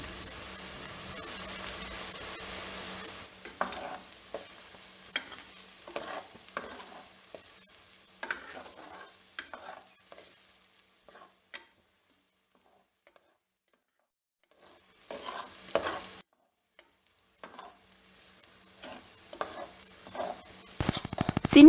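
Shallots, ginger and garlic sautéing in a pan, a steady sizzle with repeated stirring scrapes, close and moderately loud, briefly dropping to near silence partway through before the frying resumes.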